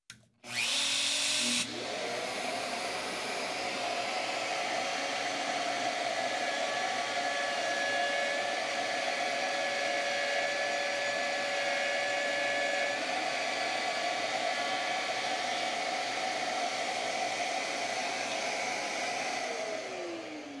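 Shaper Origin router spindle cutting with a Keilverbinder kit, starting with a sharp spin-up, then a loud, steady high whine over a dense hiss of cutting that holds close and unbroken for nearly twenty seconds.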